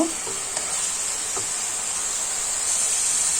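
Fenugreek leaves fry in oil for a millet fenugreek rice dish, giving a loud, steady, close sizzle that hisses on without a break and has no talk over it.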